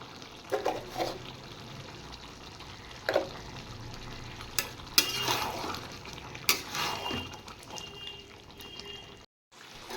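Chicken seasoned with salt sautéed and stirred in a pan, a soft sizzle under intermittent spatula scrapes and metallic clinks, ending in a brief silence.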